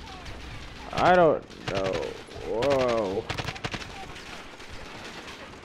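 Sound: gunfire in the video game Modern Warfare

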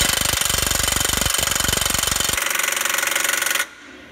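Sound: Snap-On impact gun hammering on a Jeep track bar bolt

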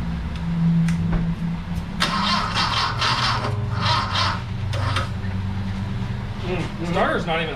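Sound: starter cranking 1969 Volkswagen Fastback engine with ether

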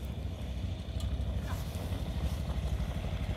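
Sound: motorcycle riding on a dusty road

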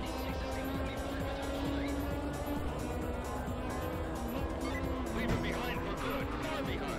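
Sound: race cars driving and passing in the video game R: Racing Evolution

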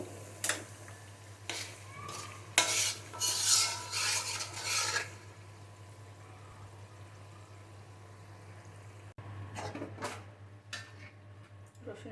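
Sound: cooked spice mixture for olive-garlic pickle poured into jar

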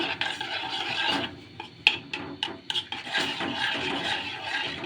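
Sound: stirring agar agar powder mixture in a cup

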